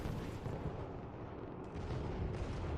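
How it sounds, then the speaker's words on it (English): Heavy tank main battle cannon firing amid a battlefield barrage, a dense, continuous rumble of booming blasts with no clear single shot standing out, loud and sustained throughout. "the main battle cannon dispatches any Tyrannofex which enters the battlefield"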